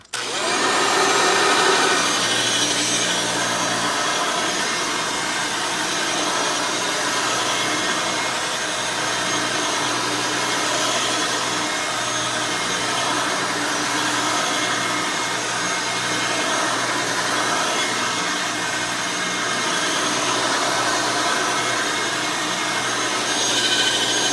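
An early-model Hoover Elite 350 U4463-9 upright vacuum cleaner runs steadily with a loud, constant motor whine and roar that holds unchanged throughout, with no voices.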